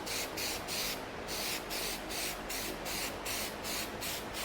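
Spray paint blasts onto a steel frame plate for a first-gen Toyota 4Runner solid axle swap, overspray coating the axle: close, steady hissing broken into a regular series of short bursts with brief gaps between.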